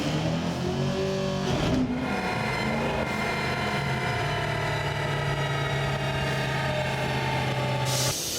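Car exhaust flows through a Cherry Bomb performance muffler in a steady, loud drone with a low, throaty tone that holds evenly, with a brief dip in pitch near the start and a cutoff near the end.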